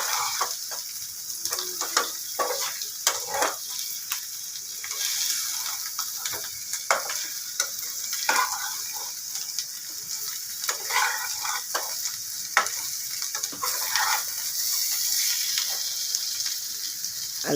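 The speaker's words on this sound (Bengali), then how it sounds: "আলুগুলো মশলার সাথে কষানো হয়ে গেল ভালো করে" Potato pieces fry with spices in an oily pan, a continuous close sizzle threaded with frequent quick scraping and stirring strokes of a spoon.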